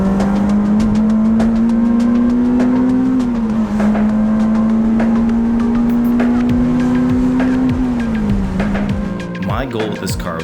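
A modified Honda EP3 Type R engine drones loudly and close, holding a steady pitch with small climbs and drops, then falling off and wavering near the end.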